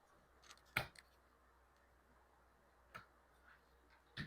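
A trident maple bonsai branch is pruned with one sharp, close snip, followed by a few fainter clicks in an otherwise quiet room.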